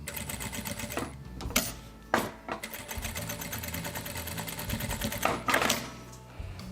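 A sewing machine stitching a fabric wallet kit runs in a fast, continuous mechanical chatter close by, with brief pauses and restarts and a few clicks between runs.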